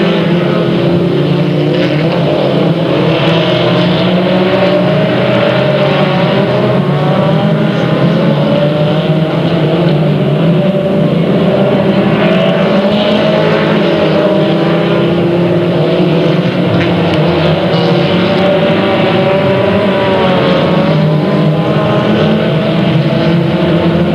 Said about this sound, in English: Green's up, we're racing.